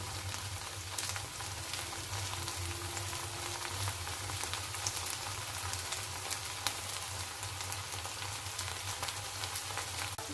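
Okra frying in a pan with salt, chili powder and turmeric powder, giving a steady, close, broadband sizzle that hisses continuously without pause, with no voices over it.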